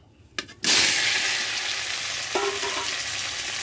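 Boiled taro hits hot oil with fried dry red chillies in a pan for a fish dish, setting off a sudden loud, hissing sizzle that keeps going steadily, after a short clink just before.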